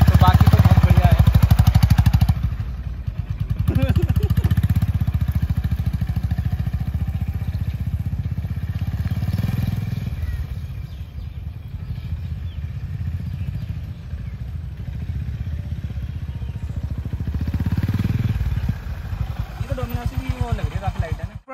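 Motorcycle engine, a Bajaj Dominar 250 or Honda CB 350 Highness, on a short test ride, running loud and steady throughout with a strong low rumble and gear-change surges, plus brief talk near the start.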